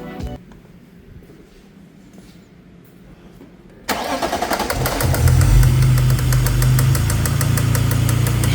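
A car engine cranks and catches, then settles into a steady, loud idle after a gearbox oil service, heard close with the hood open following a few seconds of quiet.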